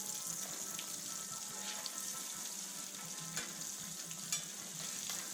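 Green tomato slices fry in bacon grease with a steady close sizzle, a continuous bright crackle holding even throughout with a few sharper pops and spits.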